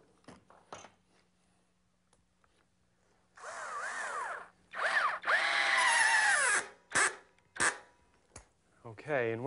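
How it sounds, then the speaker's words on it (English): Power drill boring a pilot hole in wood for a mirror frame shelf project, whining in a few short close bursts that rise and fall in pitch between quiet pauses. "First, we'll put a pilot hole in it."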